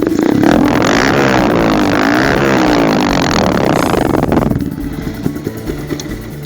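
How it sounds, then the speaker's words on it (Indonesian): A Honda C70 fitted with an R15 155 cc engine and an original CKC muffler rumbles loudly through its exhaust for about four seconds. It then drops to a lighter, uneven idle with a few small pops. "kita akan coba suara knalpot dari CKC original ini ya guys"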